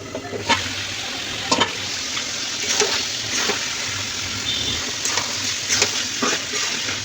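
Meat is being fried down in a pan in the kosha style, with a steady broad sizzle and periodic scraping stirs as it is turned, close and fairly loud with no talk.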